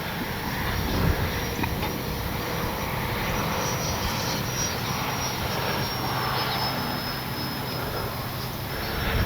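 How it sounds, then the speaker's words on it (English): A small Arrows F-86 64mm electric ducted-fan RC jet passes overhead, giving a steady, fairly faint whine and rush against a wide outdoor background with no clear talk. "Silver gray plane against a somewhat gray sky."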